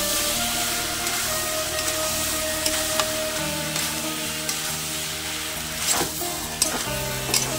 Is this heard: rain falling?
no